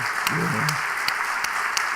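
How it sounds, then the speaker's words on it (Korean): A church congregation claps during a Sunday morning worship service, a steady wash of clapping with a brief spoken voice near the start. "우리 오늘 아침에 한번 박수해서 크게 한번 축복하십시다"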